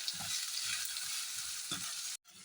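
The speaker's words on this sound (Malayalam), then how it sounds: "ഉള്ളി ഒന്ന് നന്നായി മൂത്ത് വരണം" Onions frying in a pan, a steady, fairly quiet sizzle with faint stirring, cut by a brief silent gap near the end.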